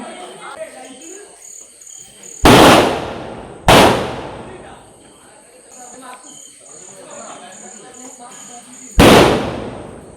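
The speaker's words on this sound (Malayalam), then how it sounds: "അതിൻ്റെ വെടി പൊട്ടിക്കൽ ആഘോഷമാണ് നടന്നുകൊണ്ടിരിക്കുന്നത്" Firecrackers bursting at a village celebration in Kerala, three sharp, loud blasts with short decaying tails, two close together and one several seconds later, over a constant background of chirping crickets.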